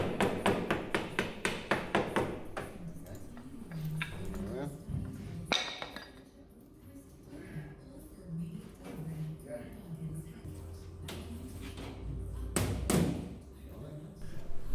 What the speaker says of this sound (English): now swapped out to a bigger blocking out hammer, and just starting to follow those marks